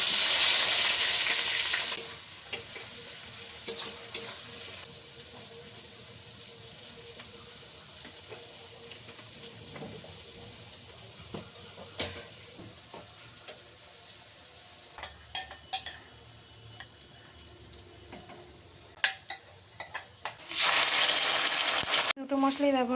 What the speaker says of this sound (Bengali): তো আমি পেঁয়াজগুলো দিয়ে দিচ্ছি এবার।